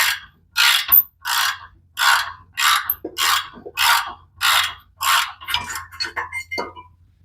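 A ratchet clicks through about ten even, evenly spaced strokes on a bolt during transmission removal from a 1995 Camaro Z28 with a V8, close and loud, the last strokes quickening and tapering off as the bolt breaks free.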